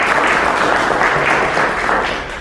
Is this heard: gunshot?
no